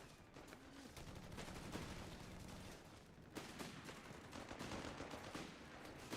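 MG42 machine gun fire in Company of Heroes 3, sustained rapid bursts with sharp repeated cracks over a constant battlefield roar, with a louder volley near the middle.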